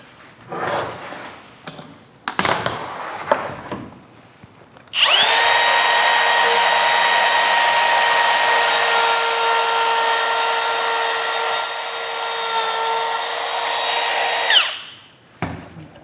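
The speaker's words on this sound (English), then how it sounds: "We're gonna go ahead and router out the channel." A wood router cuts a channel along a template for a custom Chevelle center console. It whines loudly and steadily for about ten seconds, after a few short handling knocks, then spins down.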